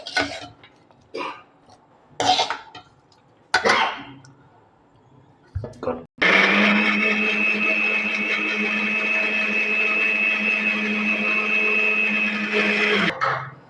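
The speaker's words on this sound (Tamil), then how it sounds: "மிக்ஸி ஜாரில் போட்டு அரைச்சிக்கலாம்" A few brief clattering knocks, then a mixer grinder grinding spicy chutney whirs loudly and steadily for several seconds before cutting off.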